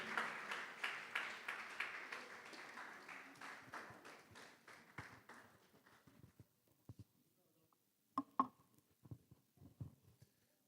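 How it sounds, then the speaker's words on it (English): Applause from an audience at the Articulate 2026 event: steady clapping fills the room, then gradually fades and thins out. It ends in scattered faint knocks and movement noises. "Please a round of applause for him."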